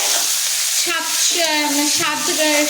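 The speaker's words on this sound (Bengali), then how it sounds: "আবারও ওই একই তেলের মধ্যে আমি পেঁয়াজ, রসুন, আদাটা ভেজে নেব" Onion, garlic and ginger fry in hot oil in a pan, with a loud, steady, close sizzle and the scrape of stirring, without any speech.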